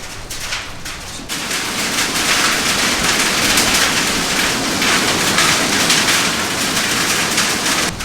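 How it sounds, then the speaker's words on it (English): Heavy hail and rain pelting down outdoors near a fire lookout in the Cariboo, a dense, steady hiss that swells after a quieter first second and stays loud throughout. "It just started hailing like mad out there."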